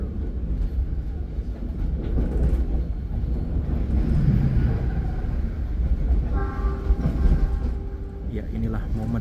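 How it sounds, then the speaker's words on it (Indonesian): Two Argo Merbabu passenger trains passing each other near Tegal, a loud steady rumble of wheels and carriages with clickety-clack rhythm and a horn-like tone late on, heard from aboard a train. "inilah momen dua kereta api Argo Merbabu bertemu"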